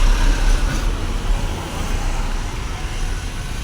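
Dense morning road traffic on a Goa street, a loud steady roar of engines and tyres with low rumbling vehicles passing close by throughout.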